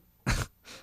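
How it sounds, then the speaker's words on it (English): A man gives a short, forceful cough, a single close burst of throat noise followed by a softer breathy exhale, with no talking. "Well, he's coughing, so he's still alive."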